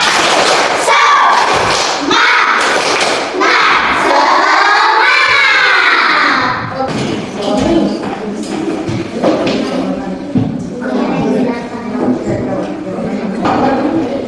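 Classroom students in Indonesia do a rhythmic spirit-clapping chant, with loud rapid claps and thumps in bursts mixed with children's shouting and chanting voices, close and energetic.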